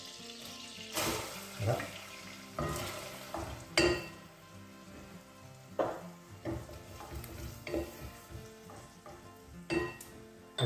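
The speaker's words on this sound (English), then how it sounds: "Okay, so once that's melted down, we're going to go in with our onion." Finely chopped small onion is stirred into melted butter in a pan, giving a soft sizzle broken by scraping clinks and stirring knocks. A voice briefly speaks over it.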